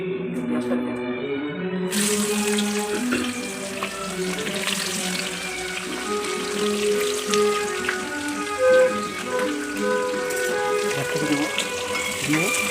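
Bay leaf, cinnamon, cardamom and sugar sizzle in hot oil for a mutton curry, a steady close frying crackle running throughout with a tonal background sound beneath it.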